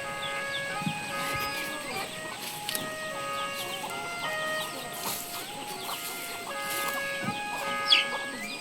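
Chickens clucking in a Lahu hill village, with overlapping clucks and calls from several birds at close to moderate distance, joined by occasional sharp squawks over a faint rural background.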